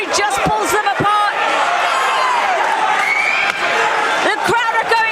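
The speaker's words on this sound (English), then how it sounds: "The crowd are going absolutely wild here at your call as Alfie Gaskin is upping the pressure" Boxing crowd at York Hall in London roaring and cheering loudly and continuously around a live bout, with whoops and shouts throughout and a commentator talking over the noise.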